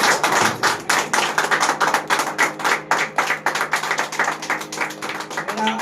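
A church congregation clapping in unison during a Sunday holy communion service: a close, steady rhythmic beat of claps, several per second, carrying on throughout with a faint tone entering near the end.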